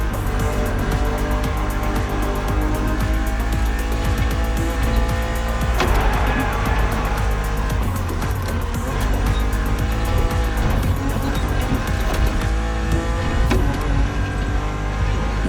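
A BMW Z4 E89 coupe cabriolet driven in the racing game The Crew Motorfest, its engine droning loudly and continuously with shifting revs, tire squeals and music-like layers throughout.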